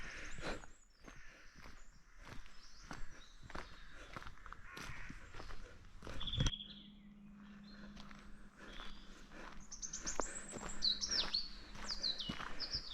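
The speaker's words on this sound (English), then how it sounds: "Plenty of bird song." Birds chirp and tweet steadily in a quiet wooded area beside a disused copper and arsenic mine, with footsteps crunching close by and a low steady hum joining the background partway through.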